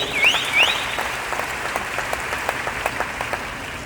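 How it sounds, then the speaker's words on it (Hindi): A large crowd applauds a company founder at a business meeting hall in Patna, a steady, fairly close round of clapping with a couple of shrill whistles near the start. "उनके लिए जबरदस्त ताली होनी चाहिए।"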